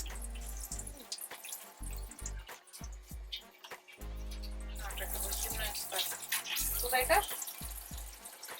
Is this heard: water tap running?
yes